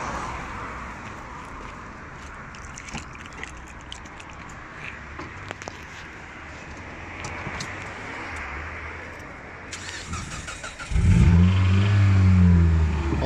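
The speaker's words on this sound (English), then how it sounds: "To start off with, we've got to warm up the engine." A Mitsubishi Lancer engine with 333,994 km, warming up, idles and revs at low rpm with scattered clicks, then rises into a loud, deep roar for the last few seconds.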